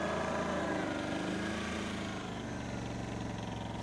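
An Arctic Cat Diesel 700 utility vehicle climbing slowly in low range, its engine droning steadily and loudly close by with a constant rumble and no talking.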